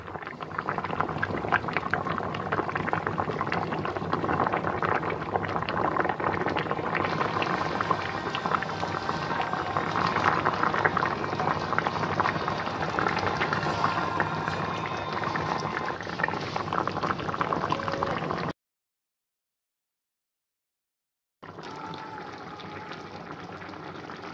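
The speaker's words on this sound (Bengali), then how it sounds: "রান্নার এই টকবক শব্দটা আমার কিন্তু অনেক ভালো লাগে।" Hilsa and pointed gourd curry with potato bubbling in a pot, a steady close bubbling and popping simmer that continues, cuts out briefly to silence, then resumes; no talking.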